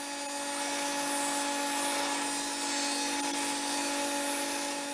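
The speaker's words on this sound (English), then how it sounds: "Then I run them through the planer, get them down to a uniform thickness" Walnut boards feeding through a thickness planer: a steady, even machine roar with a high whine running unbroken for the whole stretch, fairly close and with no voices over it.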